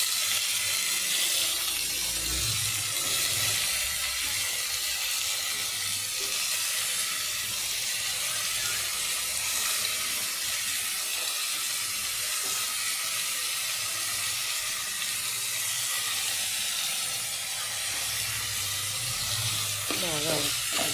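Brinjal pieces frying in a pan, a steady loud hiss and sizzle that runs unbroken throughout, close up, with a brief clatter near the end.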